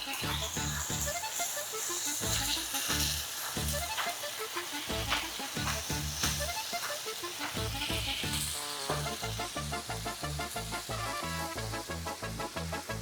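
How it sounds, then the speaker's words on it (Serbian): Beefsteak sizzles in butter in a very hot frying pan, a loud, continuous crackling hiss with rhythmic popping bursts that carries on for the whole stretch without any voices. "da cvrči par minuta"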